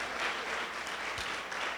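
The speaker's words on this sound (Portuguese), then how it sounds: "Você pode aplaudir o Senhor por isso?" A church congregation applauds during an anniversary service, a steady wash of clapping filling the whole short stretch at an even level, with no talk over it.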